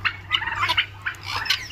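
Poultry birds on a small, low-cost farm in Assam give several close, loud squawking and gobbling calls in quick irregular bursts over a low steady hum.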